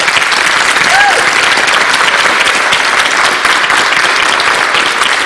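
Continuous, dense clapping from a large audience at an Ohio gubernatorial debate, loud and steady throughout with no pause and no talk over it.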